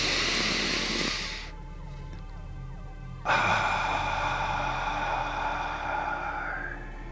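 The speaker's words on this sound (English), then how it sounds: "Nice deep breath into the nose." Deep breath drawn in through the nose during a guided breathing session, a long airy hiss that cuts off, then a fuller exhale through the mouth fading slowly, close and alone.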